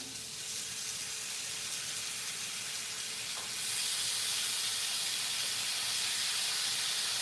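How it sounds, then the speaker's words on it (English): Steady broadband sizzling of lamb chops frying in a hot skillet, continuous and fairly close, swelling slightly louder partway through. "or our lamb, in our skillet. You hear the sizzle?"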